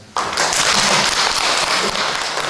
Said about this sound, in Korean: 한번 박수 한번 치고